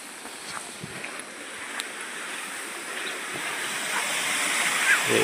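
Water trickling through partly opened gates of the Buggavanka dam, a steady broad wash of flowing water with a faint hiss that grows slightly louder, heard at some distance without voices.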